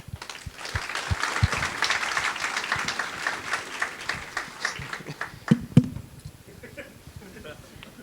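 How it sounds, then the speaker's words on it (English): Audience applause at a Rakuten technology conference keynote, a steady patter of clapping filling a hall and fading toward the end, with a few sharper close claps standing out. "Please give him a round of applause."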